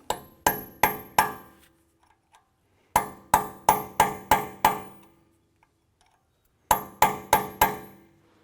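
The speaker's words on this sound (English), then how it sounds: "I'm just going to put our little punch in here and open that up so we can go ahead and remove that nut." Hammer driving a small punch against the staked axle nut on a 2004–2008 Acura TL CV axle: sharp metallic strikes in three bursts of four to six quick, ringing blows, separated by quiet pauses.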